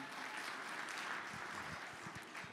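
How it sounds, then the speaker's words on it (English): An audience at a comedy jam claps in a steady, dense wash of applause that stays even throughout, fairly faint and without voices over it. "Clap if you're in a relationship."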